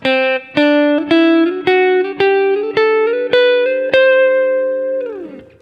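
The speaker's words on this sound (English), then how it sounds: "Or the Lydian scale would sound and look like this." A ringing electric guitar climbs a Lydian scale one picked note at a time, eight even notes, with the top note held before it cuts off.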